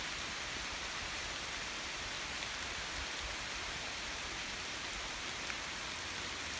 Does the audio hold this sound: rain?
yes